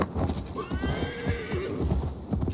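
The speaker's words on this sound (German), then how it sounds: "Ich wollte mein Pferd rufen." A horse in Assassin's Creed Valhalla whinnies loudly and close, with a wavering neigh over the thud of hooves.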